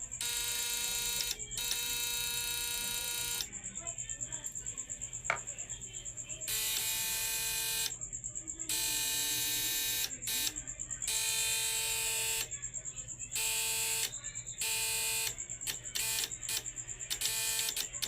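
A 5-volt electronic buzzer wired to a 1000-watt SCR TYN812 power circuit sounds in loud, steady high-pitched tones that switch on and off in uneven bursts, with a low electrical hum running underneath throughout.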